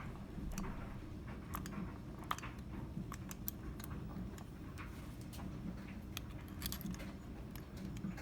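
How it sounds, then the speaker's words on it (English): Oil pump screws on a Shovelhead engine being hand tightened with a socket and extension, quiet irregular metallic clicks and light ticks over a low background hum, close and faint with no speech. "Now I'll start adding the rest of the screws, hand tightening them using a socket and an extension, but no ratchet."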